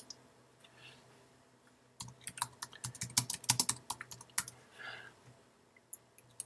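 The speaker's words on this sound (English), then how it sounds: "you could just begin to type away" Quick bursts of clicking keys on a computer keyboard, soft and close, with a brief pause before a denser run of typing in a quiet room.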